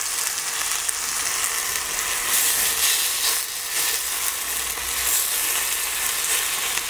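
Steady, dense sizzling of small meat pieces searing in hot butterfat in a Dutch oven, a continuous crackling hiss with small pops, close and fairly loud throughout.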